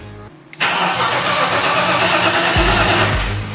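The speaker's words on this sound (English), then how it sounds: "This is genuinely the first attempt at turning the key." A BMW E30 cranks briefly after its transmission swap, then its engine catches and roars into a loud, steady idle with slight revving, close up and without speech.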